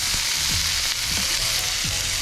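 Zucchini frying in the bottom of a pot coated with leftover seasonings, cooked as a side dish for fish; a loud, steady sizzle runs throughout, with a few soft low thumps from stirring.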